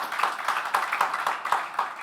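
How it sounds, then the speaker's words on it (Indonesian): A church congregation claps for Jesus during a sermon service, a fairly regular rhythmic beat of many hands clapping together in unison, moderately loud in a reverberant room. "Tepuk tangan bagi Tuhan Yesus"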